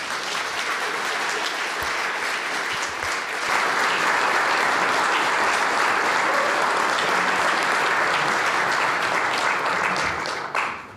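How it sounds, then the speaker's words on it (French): A large conference audience applauds loudly and steadily for the opening keynote speaker at a developer event, the clapping swelling midway and holding dense and sustained throughout. "Je vous prie de l'applaudir le plus fort possible."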